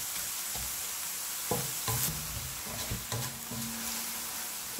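Minced pork stir-frying for a basil stir-fry, loud close sizzling under repeated spatula scrapes and clanks against the pan.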